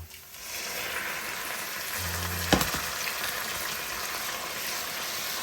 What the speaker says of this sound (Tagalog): Kapag medyo luto na yung ating bawang, lagyan natin siya ng pasta water.